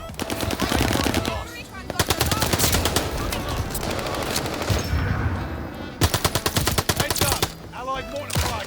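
Rapid bursts of MP40 submachine gun fire in a video game, several sharp automatic volleys separated by brief pauses, loud and close with no talk.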